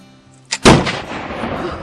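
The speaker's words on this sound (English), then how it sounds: "Firing wall gun." A historic wall gun loaded with a black-powder charge fires once at a fort, a sharp loud blast followed by a long rumbling echo that slowly fades, after a brief quieter pop just before it.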